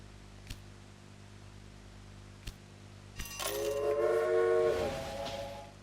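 Hops delivery train rolling along in the Railway Empire video game, with a few soft clicks, then a brief rising rumble and a horn-like tonal swell that peaks and fades away, fairly quiet overall.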